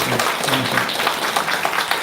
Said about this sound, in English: everybody, give a round of applause